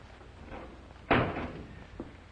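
A door bangs shut once with a sharp, loud thud in an old ranch-house interior, trailing off into a brief rattle, followed by a faint knock a moment later.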